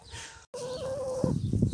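A farm hen, a Coucou fermière that is not purebred, gives a drawn-out tonal call and then a few short clucks, close by after a brief gap of silence.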